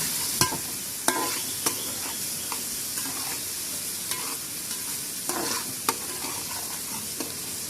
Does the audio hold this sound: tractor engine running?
no